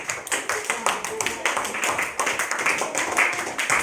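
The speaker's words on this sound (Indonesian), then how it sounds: "Ya, tepuk tangan untuk kelompok 2." Classroom of primary school children clapping for a student group, quick uneven claps close by with chatter and voices running underneath.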